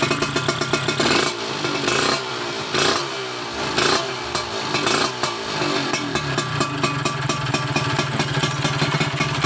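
A Honda Tena motorcycle with a tuned carburetor revs loudly up close, repeated throttle blips rising and falling in a rough rhythmic pattern before settling into a fast, buzzy, steady run.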